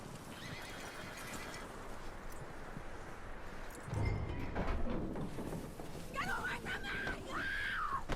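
In the video game Red Dead Redemption 2, a horse whinnies with a rising, wavering neigh near the end, preceded by hoof clip-clops and ambient outdoor sounds, fairly quiet overall.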